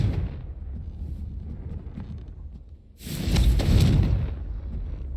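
A Confringo blasting spell goes off in Hogwarts Legacy: a low rumbling background, then a sudden loud, booming explosion that swells for about a second and rolls away into a lingering roar.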